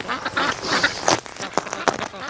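Several Muscovy ducks quack in a lively, overlapping chorus at close range in a barn on a cold day, with bursts of calls repeating through the moment.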